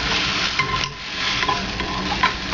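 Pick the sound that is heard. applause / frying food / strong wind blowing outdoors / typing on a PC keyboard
frying food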